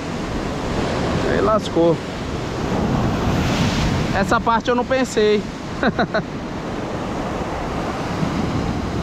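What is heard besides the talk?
sea waves washing over rocks while fishing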